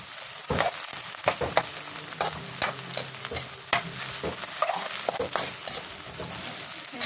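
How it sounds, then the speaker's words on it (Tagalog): Pork, including pig ears, stirred in a sizzling pan: irregular scraping and knocking strokes of a spatula over a moderate frying hiss, close up with no one talking. "Kailangan haluin lang. Haluin-haluin natin para magamas na."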